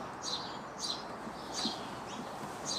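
Small birds chirp outdoors in a repeating pattern of short, high tweets about every half second, moderately distant over a quiet background with no talk.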